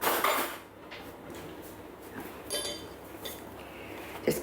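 A spoon stirring sourdough discard into flour in a bowl, with scraping and clinking of metal against the bowl in irregular bursts, close and moderately loud, no voices.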